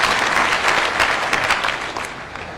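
A crowd at an outdoor political rally in Laikipia breaks into loud, close applause, dense clapping that swells and then tapers slightly over a couple of seconds.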